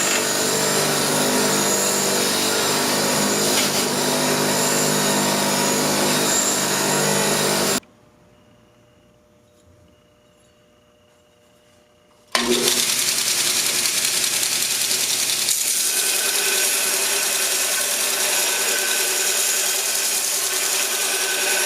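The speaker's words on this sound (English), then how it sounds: "we're going to quickly clean all this off with the wire wheel, and then jump right over to a 36 grit on my belt" Steel for a hand-forged custom EDC knife is cleaned up, first on a wire wheel and then on a 36-grit belt grinder. Loud, steady abrasive grinding runs for several seconds, breaks off into a brief near-silence, then resumes just as strongly.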